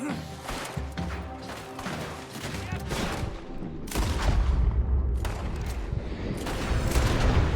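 Shootout in the Red Dead Redemption 2 video game, with rapid loud gunshots cracking close and far in a dense burst that builds into heavier booming fire toward the end.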